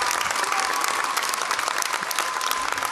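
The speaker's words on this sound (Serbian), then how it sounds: "Jedan aplauz za Ljubinku Vešović." A concert audience applauds in a dense, steady wash of clapping that fills the hall at full volume from start to end.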